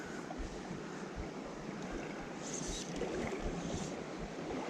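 River Taw water rushes steadily past at close range, a broad continuous flow with gusty low rumbles, likely wind against the microphone.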